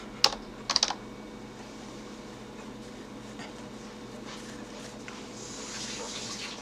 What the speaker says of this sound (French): on appuie sur la touche Entrée